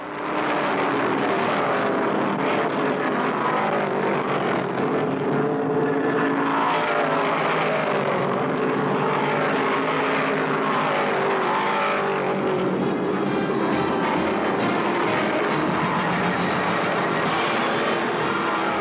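Richard Petty's No. 43 Plymouth NASCAR stock car laps the track at the Virginia 500, a loud, continuous, broad engine roar that swells slightly toward the end, with no voices.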